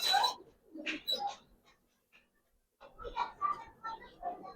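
Giribaz pigeons in a cage giving soft, rolling coos in two bursts separated by a short pause, close and moderately loud.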